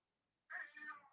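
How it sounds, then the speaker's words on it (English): A domestic cat lets out a single drawn-out meow indoors, fairly close and clear after a moment of near silence. "Yes, that's my cat meowing."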